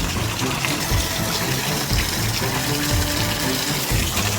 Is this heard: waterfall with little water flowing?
yes